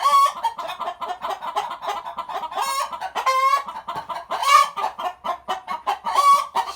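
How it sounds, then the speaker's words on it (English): Hens clucking and squawking agitatedly at a snake stealing eggs, a dense, loud chorus of overlapping calls with sharp rising cackles, close by and continuous. "I was wondering why these hens were all going nuts."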